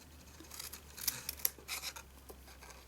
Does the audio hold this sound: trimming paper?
yes